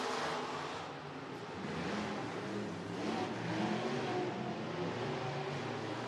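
A race car circles the Merced Speedway dirt oval in California during a qualifier, its engine a distant, fairly faint drone that swells and fades slightly as it travels down the back straight into the turn.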